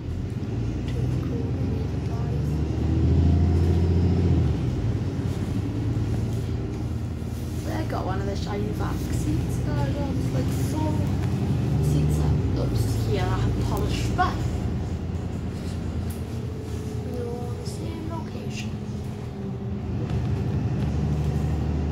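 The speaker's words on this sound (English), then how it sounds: "Record some Arriva Blythe buses." Arriva buses in Blyth, north-east England, pass by on the street with a continuous engine rumble swelling and fading as they go, plus hissing brakes, amid general traffic noise and faint background voices.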